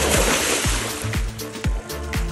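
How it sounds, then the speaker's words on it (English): A hooked alligator gar thrashing at the surface beside a boat, throwing up several loud, close splashes in an irregular rhythm over steady background wash, with no talk. "I just got splashed."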